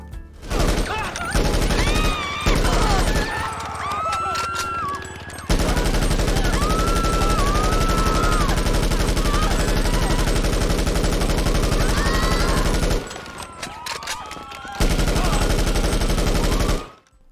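Loud, dense unsuppressed M16 carbine fire in GTA 5 Online rattles in long continuous bursts with brief pauses, close and harsh, with a voice talking underneath at times.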